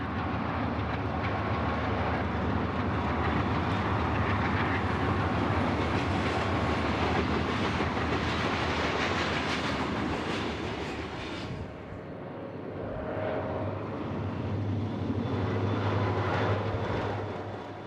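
Union Pacific GE U-28C diesel locomotive passing at Barstow, a loud, steady, broadband roar of engine and rolling train that holds close for most of its length, dips briefly, then swells again, with no talk over it.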